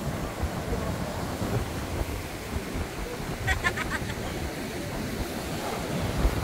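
Rough ocean surf rolls and crashes steadily at close range, mixed with wind noise on the microphone and a few faint higher clicks.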